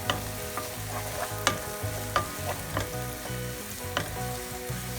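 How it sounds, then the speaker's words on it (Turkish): Carrots and onions sauté in a pan, a steady sizzle under repeated scraping and stirring knocks of a utensil against the pan, close and fairly loud with no talk. "şu anda havuçlarımız soğanla kavruluyor"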